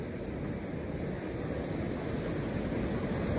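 Steady rushing water roars continuously, a dense broadband wash with no voices, fairly loud and close.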